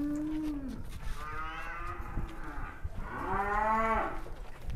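A six-legged cow at a cattle contest on a hot day gives two long, drawn-out moos, loud and close, with a short pause between them and low background bustle underneath.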